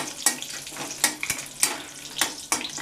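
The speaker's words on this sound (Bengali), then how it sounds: "প্রথমে ঘিটা গলে গেছে, আমি দুটো শুকনো লঙ্কা আর তেজপাতা দিয়ে দিলাম। দিয়ে ভালো করে নাড়িয়ে নিচ্ছি।" Dried red chillies and a bay leaf fry in melted ghee, a steady close sizzle broken by a few louder scraping strokes as they are stirred.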